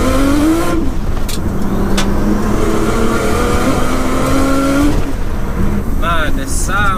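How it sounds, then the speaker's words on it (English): A 700bhp Nissan R33 Skyline with a screamer pipe revs hard, its loud engine rising and falling in sustained surges with sharp whooshing bursts near the end, while people talk over it. "That's the screamer pipe doing the work there."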